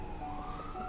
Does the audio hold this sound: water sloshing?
no